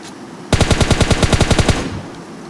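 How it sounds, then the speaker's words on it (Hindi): A loud, close automatic burst of about a dozen rapid shots in PUBG Mobile Lite, a solo-versus-squad match, the rounds evenly spaced and then cut off abruptly. "अब मैंने फिर भी यहाँ फायरिंग किया"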